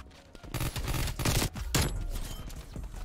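Enemy gunfire in Call of Duty: Black Ops Cold War, a dense, loud fusillade of rapid shots rattling almost continuously for about three seconds, close and unbroken.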